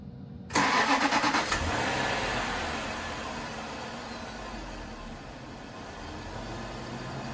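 A Jeep XJ engine with a brand-new battery cranks for a moment, catches loudly and then settles into a steady, nearby idle.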